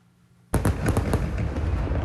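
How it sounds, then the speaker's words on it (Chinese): Fireworks bursting over the night sky at the Penghu fireworks festival, a sudden loud onset followed by a dense, continuous crackling roar of pops and bangs. "光艳艳烟火伫咧夜空放个真水"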